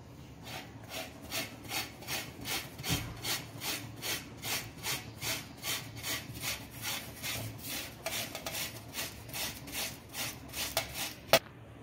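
Boiled potatoes grated by hand for ragda patties make a steady run of rhythmic rasping strokes, about two per second, close and fairly quiet, with a sharp tap near the end.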